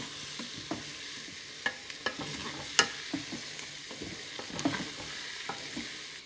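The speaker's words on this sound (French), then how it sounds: "On mélange bien comme il faut, hein, pour que la maïzena enrobe bien la viande et les oignons" A spoon stirs beef and onions coated in cornstarch in a hot pan for Flemish carbonade, with soft scraping and light clinks over a quiet sizzle and scattered sharper taps.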